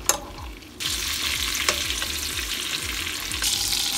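Filet mignon basted with butter, rosemary and garlic in a cast iron skillet, a steady loud sizzle and frying hiss with repeated scraping spoon strokes in a regular rhythm, close up, no talking.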